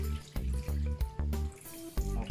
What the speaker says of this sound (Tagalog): Tanggalin natin ulit yung tubig.